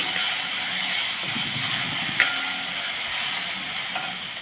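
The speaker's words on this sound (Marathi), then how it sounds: "लसूण अद्रकची पेस्ट टाकली की जरा असं हलवून घ्यायचं म्हणजे फोडणी करपणार नाही आपली" Ginger-garlic paste fries in hot oil with a steady broad sizzle while a spoon stirs and scrapes it across the pan, one sharper click near the middle, no voices.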